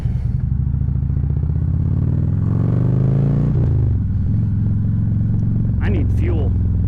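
A motorcycle is ridden at speed, its engine droning loud and continuous with rising and falling revs under wind noise, while a rider talks over it.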